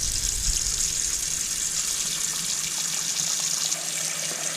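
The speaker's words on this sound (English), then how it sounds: "You just want to add water till you know you got about a good bit of water covering your beans" Tap water runs steadily into a pot of dried red beans being cooked for South Louisiana red beans and rice, a continuous close, even splashing rush with no talk.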